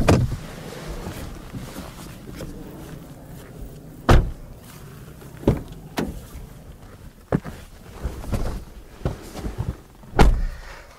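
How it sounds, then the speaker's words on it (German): Doors of a Jeep Compass plug-in hybrid shutting with a tinny, hollow thunk, several separate closing knocks spaced apart amid quieter cabin handling noises, no talk. "Schade, dass die Türen ein bisschen blechern klingen."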